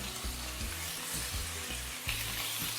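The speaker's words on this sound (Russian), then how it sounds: "Обжариваю еще минуту." Carrots, celery and red pepper fry in a pan for a Vietnamese-style funchoza salad with squid, giving a continuous close sizzle with a few rhythmic stirring scrapes and no talking.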